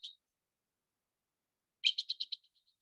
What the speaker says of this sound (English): This is the burrowing owl.